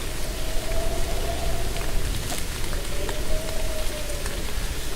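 Steady rain pattering across a surface, a continuous hiss with scattered drops and a faint tonal hum in the background, no voices.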